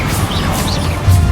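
A Bombarda blasting spell goes off in Hogwarts Legacy during a dragon battle: a short, dense burst of crashing noise that ends in a low, rumbling thud, loud and close.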